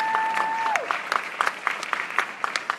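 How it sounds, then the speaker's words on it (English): Applause from an audience at a journalists' convention fades into scattered, individual claps, with a brief tone at the start and the sound thinning to separate sharp hand claps. "applause."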